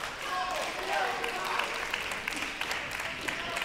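A crowd applauds steadily at a college table tennis team final, a dense, moderately distant clatter of clapping that holds for several seconds with faint voices mixed in.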